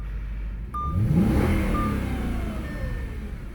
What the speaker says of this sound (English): So yeah, I just revved it